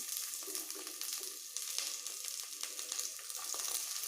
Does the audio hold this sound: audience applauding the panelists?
no